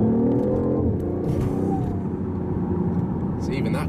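A 2014 BMW i8 hybrid sports car accelerates hard from a standstill, its steady engine and road drone filling the cabin while a person talks over it.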